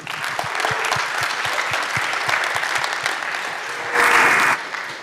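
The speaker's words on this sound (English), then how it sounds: "big applause for Christian" An audience at the ConsenSys Connect Bogota 2022 conference gives steady, dense applause welcoming a speaker on stage, with a louder burst of clapping and cheering toward the end.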